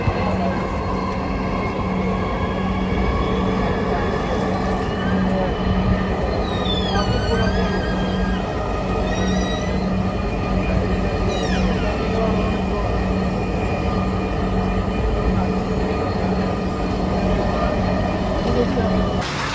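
Dhaka metro rail train running toward Motijheel, a steady loud interior rumble with a constant hum and brief wheel squeals and chirps midway, heard from inside the carriage.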